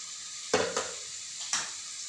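Wheat semolina roasting in ghee in a pan, stirred with a few soft scraping strokes that bring short bursts of gentle sizzling over a faint steady crackle, quiet and close.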